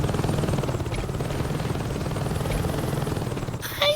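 A helicopter in the video game Saints Row 2 thrums steadily with a loud, continuous rotor chop throughout, joined near the end by a short burst of sharper noise.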